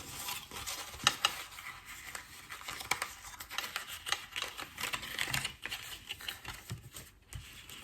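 Paper card being cut by hand, with a series of small irregular snips, crisp clicks and rustles, quiet and close, with no talking.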